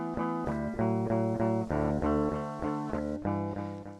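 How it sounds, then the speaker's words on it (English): A raw, unprocessed electric guitar strums two chords back and forth in a steady, repeated rhythm, clear and close with no effects and no voices. "It is just that raw guitar,"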